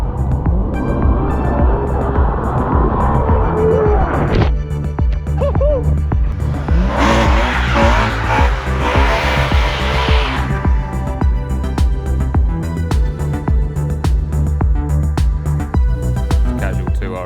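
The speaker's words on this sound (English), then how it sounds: "a snowboarder to jump over his drifting Ferrari SP2 Monza" A Ferrari SP2 Monza drifts on a snowy mountain pass, its engine revving hard and swelling into a loud, harsh sliding roar midway before settling back to a steady drone.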